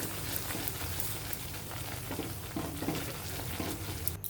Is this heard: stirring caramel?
yes